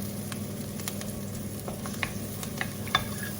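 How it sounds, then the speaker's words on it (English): Onion and chili sauté in hot oil in a pan, a soft, continuous sizzle with occasional light stirring clicks and pops, fairly faint and steady, with no voices. "You can just saute them in oil, just onion and chili"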